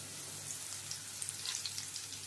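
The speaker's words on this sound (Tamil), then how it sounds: "ஒரு கொத்து கருவேப்பிலை போட்டுக்கலாம்." A bunch of curry leaves sizzles in hot oil in a pan for a crab gravy, a steady soft crackle with light popping spatters, close and alone.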